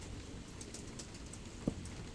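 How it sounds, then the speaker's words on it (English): Rain mixed with hail in SkyFactory 4 makes a steady, faint, hissing patter throughout, broken by a single soft low thump near the end. "That kind of sounds like it's hailing out there right now."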